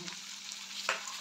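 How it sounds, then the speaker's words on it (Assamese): Turmeric, spices, ginger and garlic fry on low heat in a pan for a dish of dried fish with drumstick, giving a soft, steady sizzle with light stirring scrapes and one brief louder clatter. "এতিয়া অকণমান কম জুইত ভাজি থাকিলে হ'ল আৰু এইখিনি।"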